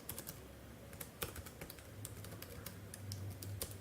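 Rapid, irregular clicks from a computer keyboard as a git clone command is entered, quiet and close, with brief pauses between bursts of keystrokes.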